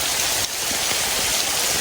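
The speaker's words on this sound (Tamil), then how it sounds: "வேகமா வருதுடா மழை." Heavy rain pouring down fast outdoors during a fishing trip, a dense, loud continuous hiss of drops hitting surfaces, with no talk.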